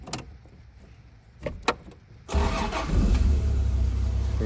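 A 1993 Toyota Land Cruiser FZJ75 Troopy with a 1FZ-F 24-valve inline-six: a few quiet clicks, then the starter cranks and the engine catches loudly about halfway through, settling into a steady, rumbling idle close by.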